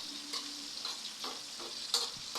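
Faint bubbling and light sizzling of pork broth with vegetables cooking in a pan, with a few soft scrapes and clinks as it is stirred.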